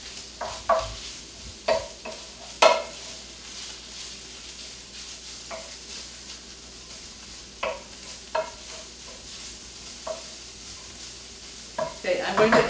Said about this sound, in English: That's a little bit of a stir and all that sizzling.